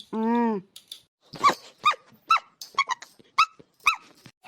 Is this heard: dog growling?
yes